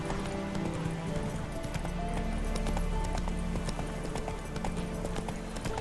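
A horse gallops in The Witcher 3: Wild Hunt, rapid rhythmic hoofbeats drumming steadily and close throughout, with a brief whinny and game ambience mixed in.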